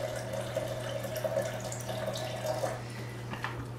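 Water pours steadily into a Blendtec blender jar holding brown rice, a continuous splashing stream with a low hum beneath, close by.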